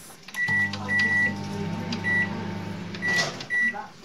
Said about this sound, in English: Now you put it in the microwave.